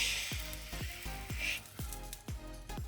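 A hotteok, a Korean sweet pancake, fries in a pan with a soft, close sizzle, broken by a regular series of short knocks or taps.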